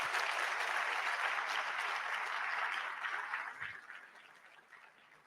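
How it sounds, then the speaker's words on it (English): An audience at a physician assistants' induction ceremony claps steadily, a broad wash of many hands that gradually thins and fades out near the end. "you can clap"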